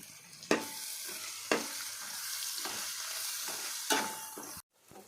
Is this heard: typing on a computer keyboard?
no